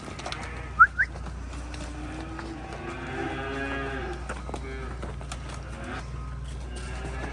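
Cows moo in a cow/calf barn as feeder cattle are pushed into a pen, several long low bellows overlapping through most of the stretch over a steady barn hum, with two brief sharp chirps near the start.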